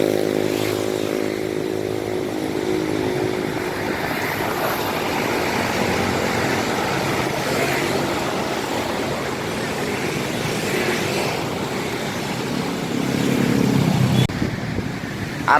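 An Eka bus bound for Semarang pulls out of Tirtonadi bus terminal in Solo in the rain, its engine droning loudly and steadily nearby amid terminal noise, with the rumble swelling near the end.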